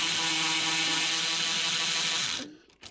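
Power tool loosening bolts on a 2000 Chevy Silverado, a loud steady high whirring buzz that runs close up for over two seconds, then cuts off abruptly into a few brief rattles.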